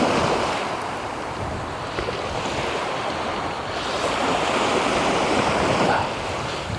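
Waves wash onto the shore at sunrise, a continuous loud surging roar with gentle swells, mixed with wind buffeting the microphone.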